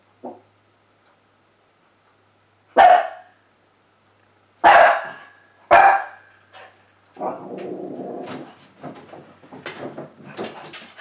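A dog barks sharply several times, single loud barks spaced a second or two apart, followed by softer rustling and thumping noises.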